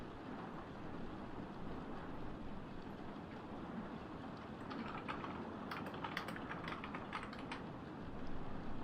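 Typing on a computer keyboard, soft steady key clicks under a constant background hum, turning into a brisker burst of sharper keystrokes toward the end.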